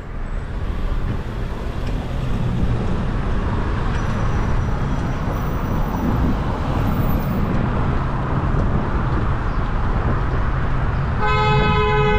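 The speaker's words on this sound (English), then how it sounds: "lots of honking these days." Car horns toot in busy Toronto city traffic, heard from a bicycle over a constant loud roar of road and wind noise, with a clear sustained honk near the end.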